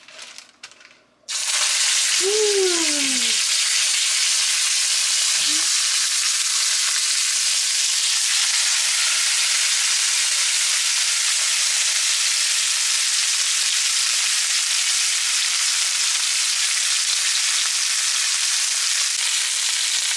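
Shrimp hitting a preheated hot pan, bursting into a loud, steady sizzle that fills the space and holds continuously, with a brief clatter as they land.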